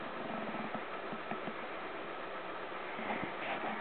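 A 2001 Alfa Romeo 147 T Spark petrol hatchback idles steadily after a jump start, a continuous low engine hum with faint irregular pulses, heard close and alone without voices.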